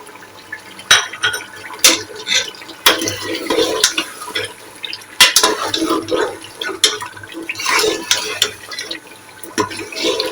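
Potatoes and green chilies fry in a pot for a meat and potato curry, with a spoon scraping and clattering against the metal in irregular knocks over a steady sizzle, close and fairly loud.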